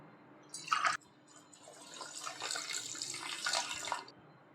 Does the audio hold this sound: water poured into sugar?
yes